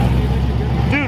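A BMW M3 car engine gives a steady, loud, low rumble, close by, at an outdoor car event, with a short voice at the end.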